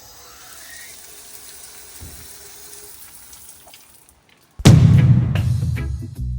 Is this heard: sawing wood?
no